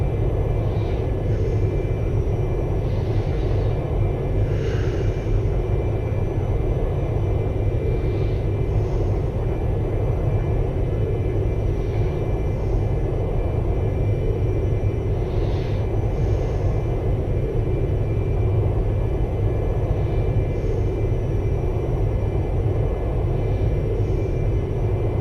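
Steady cabin drone of a Cessna Citation II business jet cruising in the X-Plane 11 flight simulator on a Key West to St. Pete flight, a constant loud low rumble with faint higher engine whine, no voices.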